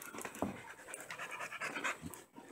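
Tired dogs pant rapidly and continuously at close range, a rough breathy rhythm with faint background noise and no talking.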